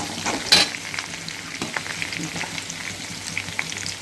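Green chillies and garlic frying in a pan for Chettinad-style karunai kizhangu (elephant foot yam) masiyal, a steady soft sizzle with a sharp clink of a spoon early on and light stirring scrapes throughout.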